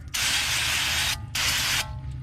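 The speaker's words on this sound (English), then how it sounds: "I'm just going to hose this off to get any big stuff off here." Garden hose spraying water onto the front brake parts of a 2012 Nissan Rogue 2.5 S, two close bursts of strong hissing spray separated by a brief pause, no talk.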